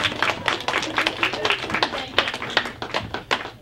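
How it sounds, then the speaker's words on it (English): A small audience at a debate event gives a round of applause, with distinct, individually audible claps in a loose, uneven rhythm, fairly close and moderately loud. "Give them a round of applause, please."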